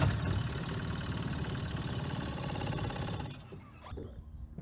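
A Yamaha 20 hp outboard motor idles with a steady, close mechanical chug, then cuts out abruptly near the end, leaving a few faint knocks and clatters.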